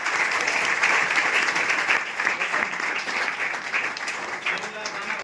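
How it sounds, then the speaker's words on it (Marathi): A crowd claps steadily and loudly at a ceremony honoring students, a dense sustained round of applause that eases slightly toward the end. "जोरदार टाळ्या होता"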